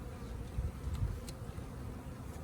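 Honey bees from a package of about ten thousand hum in a low, steady buzz while being installed into an Apimaye hive outdoors. Faint and continuous, with no voices.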